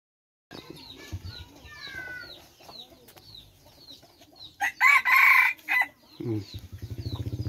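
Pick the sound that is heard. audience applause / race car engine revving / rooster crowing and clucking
rooster crowing and clucking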